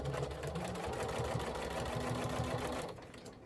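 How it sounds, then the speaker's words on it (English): A sewing machine stay stitching close to the edge of a surgical mask to hold two pleats, a fast continuous whirring drone at close range that runs steadily and then stops near the end. "You just want to stay stitch close to the edge just to keep those 2 pleats in place."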